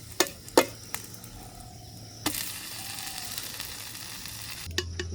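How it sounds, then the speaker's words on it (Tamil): Oil dosa frying on a pan in a village kitchen, a soft, low sizzle that runs continuously, punctuated by a few sharp clanks and taps near the start and end. "தோசை நல்லா பொரிஞ்சு கொண்டு இருக்குது, எண்ணெயை விட்டு நல்லா பொரிஞ்சு கொண்டு இருக்குது"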